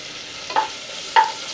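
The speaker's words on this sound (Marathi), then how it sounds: "एखादा मिनिटभर अशी चांगली परतून घ्यायची" Ginger-garlic paste sautéed in oil in a pan for pav bhaji, with a low steady sizzle and two quick, close utensil scrapes against the pan, no voices.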